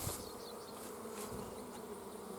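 A steady swarm-like drone of honey bees hovers around a depleted hive, the continuous buzzing close and even throughout, with no speech.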